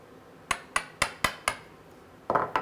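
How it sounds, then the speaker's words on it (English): A chisel chips out short-grain waste in a wooden half-blind dovetail socket, producing five sharp, evenly spaced mallet knocks up close, then a pause and a quick double strike. "All I'm doing for the moment is just chipping out that short grain."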